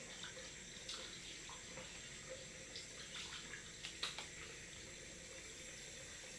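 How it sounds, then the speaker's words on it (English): Cold water running from a tap into a sink, a soft continuous splashing with a few small clinks and knocks over the flow. "Right, cold water on. Let's get the cold on."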